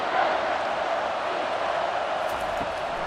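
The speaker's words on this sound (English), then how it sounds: "This crowd knows when to bring it." Steady roar of a packed stadium crowd in the College Football 25 video game during a Florida State vs Texas matchup, a dense continuous wash of noise held at an even level throughout.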